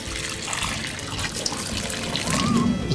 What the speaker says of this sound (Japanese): それでお湯をね、 注いじゃいます。